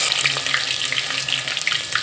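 A spoonful of ginger garlic paste hits hot oil in a pan while palak rice is being cooked, producing a close, steady crackling sizzle with bright spitting pops throughout.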